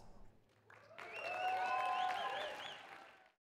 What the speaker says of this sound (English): Please give a nice round of applause to this next video